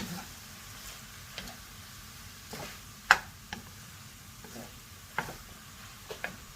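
Chinese-style fried rice stir-fried on a high flame: a soft, steady sizzle with scattered clinks and scrapes of a spatula against the pan, one sharper knock in the middle, and no talking.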